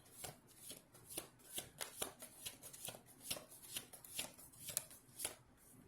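Tarot cards being shuffled by hand, a steady run of crisp riffling flutters and soft slaps repeating about twice a second, close and fairly quiet, with no voices.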